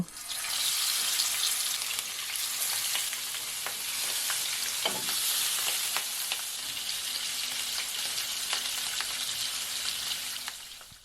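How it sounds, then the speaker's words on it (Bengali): Marinated hilsa fish frying in hot oil in a frying pan makes a loud, steady, crackling sizzle throughout, with occasional pops and a brief utensil knock midway, close by and with no talking. "তেল গরম হয়ে আসলে আমরা ইলিশ মাছ দিয়ে দেব ভেজে নেওয়ার জন্য"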